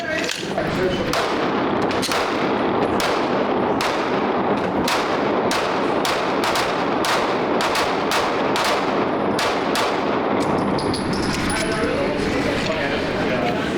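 Rapid strings of close, sharp gunshots from a Glock Gen 6 pistol crack out loud and fast, a dozen-plus reports in quick succession with brief echoing tails, alone without talk.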